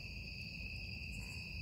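Crickets chirping at night at a deer camp during the opening of gun season, a steady, continuous high-pitched trill of several insects with a faint low background rumble and no talk.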